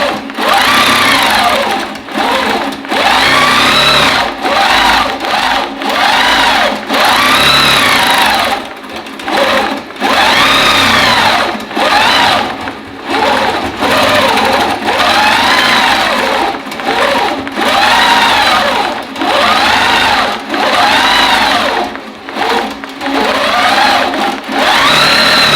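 Loud, close sewing machine stitching a quilt in fast bursts, each run several seconds long, broken by brief pauses as the fabric is shifted; no talking.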